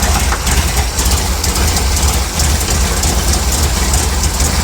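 A 1955 Chevy engine idles at 750 rpm during carburetor tuning, its throttle butterfly closed, giving a steady, loud, low rumble that runs unbroken and close throughout, with no talking.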